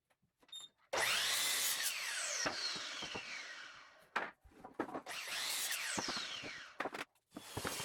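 A table saw rips 2x4 lumber in two long, loud cutting passes, each ending as the blade whines down in pitch, with brief knocks and handling sounds between the cuts.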